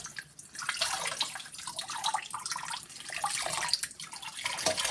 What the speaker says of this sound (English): squeeze water out of it.